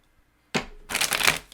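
Tarot cards shuffled by hand in two bursts: a short riffle, a brief pause, then a longer, louder run of flicking, riffling card noise close by, with no talking.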